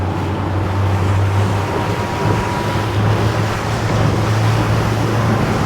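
An RS Pulse electric RIB speeds up at sea, and its motor's faint whine sits under loud, steady rushing water and heavy wind buffeting on the microphone.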